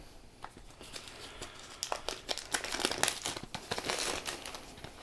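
Plastic wrap crinkles and tears as a Warhammer 40,000 Leviathan card pack is unwrapped, starting quiet and building to dense, close crackling rustles over several seconds.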